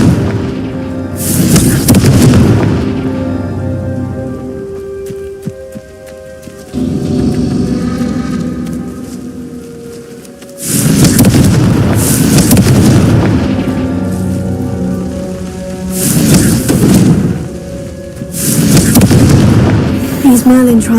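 Confringo spell explosions in Hogwarts Legacy go off in loud, booming bursts that crackle like heavy rain, with several separate blasts spaced by quieter rumbling stretches.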